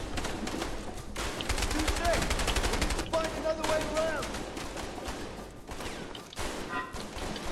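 Rapid automatic gunfire from the video game A Way Out rattles on in dense bursts, loud and close, with brief pauses and a single whistling tone partway through, while players speak over it.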